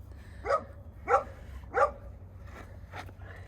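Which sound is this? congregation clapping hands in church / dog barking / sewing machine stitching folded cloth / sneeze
dog barking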